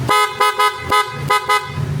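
A Honda ADV 160 scooter's horn honks in several short, loud beeps, close by, with brief pauses between them.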